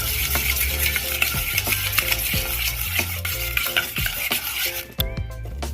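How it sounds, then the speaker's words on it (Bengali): A spoon stirs and scrapes ingredients together in a bowl while preparing doi bora, with steady repeated mixing strokes under background music. "খুব ভালোভাবে এটা মিশিয়ে নেব"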